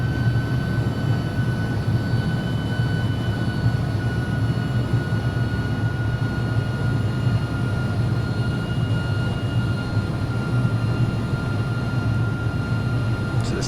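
Cabin drone of an A300-600 airliner cruising in the X-Plane 11 simulator, a loud steady engine rumble with a faint constant whine, continuous and unchanging, with no talk.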